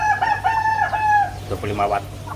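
At a poultry farm, a rooster gives one loud, close crow, and chickens cluck briefly after it.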